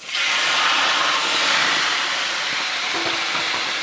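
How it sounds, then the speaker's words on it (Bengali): Chicken pieces fry in hot oil in a pan with a loud, steady, close sizzling hiss that runs without a break and no voices. "এইবার চিকেনটাকে একটু ভেজে নেব।"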